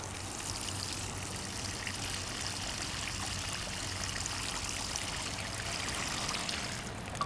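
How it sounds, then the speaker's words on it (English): Water poured into a planting hole for a tomato plant in clay garden soil, a steady gushing pour that runs continuously for several seconds, close and alone without talk. "Put some water in here."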